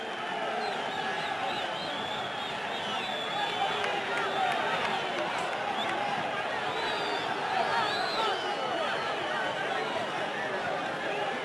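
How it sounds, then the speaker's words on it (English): Crowd noise at a women's club football match in Gaborone, United Ladies against Ascent Academy, a steady roar of voices rising around a corner kick, with a commentator talking over it. "It's a corner, and the crowd get involved."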